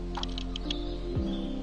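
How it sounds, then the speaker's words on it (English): A handful of quick, scratchy taps from birds perched on top of the camera, close by, over a steady low hum, in winter at Glenfinnan in the Scottish Highlands. "The scratchy sounds you hear is the birds sat on top of the camera."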